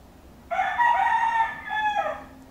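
A rooster crows once in a single long, loud, close cock-a-doodle-doo against a quiet background.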